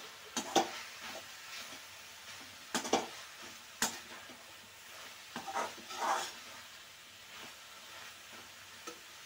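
Palak mushroom curry with chili powder, turmeric and salt being stirred in a hot pan: a soft sizzle runs underneath while a spoon scrapes and taps the pan in scattered bursts.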